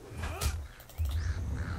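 A crow caws in the Lord of the Rings Online (LOTRO) video game, a couple of harsh bird calls rising over a low steady game background hum.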